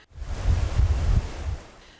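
The fast-flowing Truckee River rushes past in Reno, a loud, steady roar of churning water that swells and eases slightly, with no voices.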